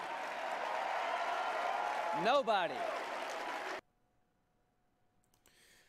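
Loud, sustained crowd applause at the CPAC conference with a voice briefly rising over it, then an abrupt cut to near silence.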